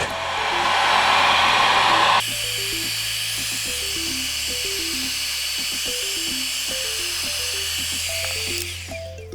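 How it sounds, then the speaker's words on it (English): A heat gun warms a carbon fiber trim overlay for a 2016+ Camaro interior, a loud steady blowing whine joined by a rhythmic series of short stepped electronic beeps as the setting changes. "I got my heat gun, and just gonna add a little bit of heat to this thing"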